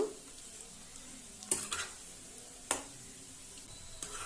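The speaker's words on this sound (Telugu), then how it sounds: "ఇలాగే సిమ్లోనే వేయించుకోవాలి ఇలా వేయించుకోవాలండి రివర్స్ చేస్తూ వేయించుకోండి" Eggs fry in a pan over a low flame for egg pickle, giving a soft continuous sizzle with a few sharp clinks of the spatula as they are turned, quiet and close.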